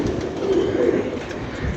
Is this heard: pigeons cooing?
yes